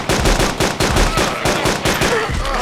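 Gunfire in the zombie survival video game DayZ rattles out as a rapid string of loud, close shots in an even rhythm, about a dozen in quick succession with little else under them.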